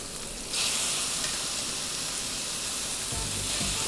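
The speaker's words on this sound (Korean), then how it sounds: "이렇게 완두콩 색이 나기 시작하면 파스타 면을 넣어주는 거예요" Pasta dropped into a hot pan with peas for a Gordon Ramsay-style carbonara bursts into a loud, steady sizzle that starts abruptly and holds, with a couple of soft low bumps near the end.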